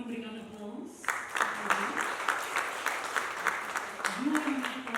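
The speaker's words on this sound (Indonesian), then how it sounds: "Kami mohon berikan aplaus" A crowd at a Surabaya PMI award ceremony breaks into steady applause after a voice calls for it, with clapping sustained for several seconds and a speaker's voice returning over the tail end.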